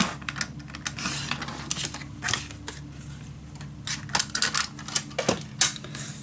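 Scissors cutting out paper pieces for steampunk Christmas letters, a run of close, crisp snipping and rustling clicks in an irregular rhythm, with a faint hum underneath.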